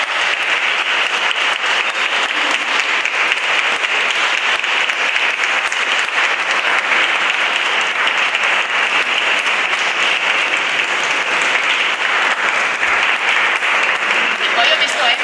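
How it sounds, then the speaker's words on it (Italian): Sustained audience applause at a Christmas concert in San Lorenzo Isontino, a loud, dense and unbroken wash of clapping from a large crowd. "vieni a prenderti un altro applauso"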